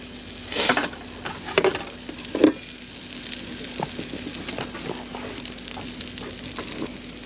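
Battered salt and pepper squid rings sizzling and frying in a pan of oil outdoors on a dock, a steady crackling hiss with a few louder bursts early on as pieces go in, then a continuous light sizzle.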